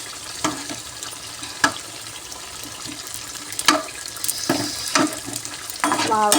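Punugulu batter fritters dropped into hot oil, giving a continuous bubbling sizzle broken by sharp clinks and splashes of batter going in, close up and without speech.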